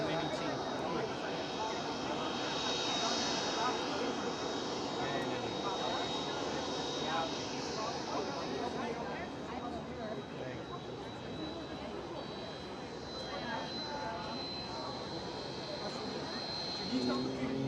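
A Transavia Boeing 737 arriving at Amsterdam Schiphol, its jet engines a continuous broad roar that holds steady throughout with a high whine, under occasional talk nearby.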